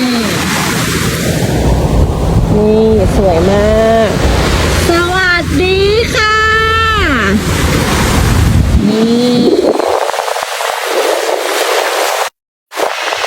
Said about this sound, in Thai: ได้ยินเสียงคลื่นไหม